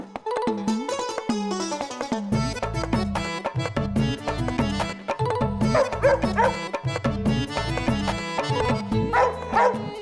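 A dog named Jimmy barks repeatedly and loudly in a rapid, uneven series, with yips and whimpering sounds between the barks, close and continuous.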